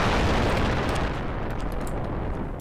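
Bomb blast in the physics sandbox game People's Playground: a loud, sustained broadband boom with rumbling, crackling debris that holds steady for the whole stretch, with no talking.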